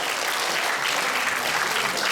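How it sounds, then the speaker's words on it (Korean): An audience at a Korean women's policy forum in a National Assembly conference hall applauds, a dense, sustained wash of clapping that fills the room without letup. "큰 박수로"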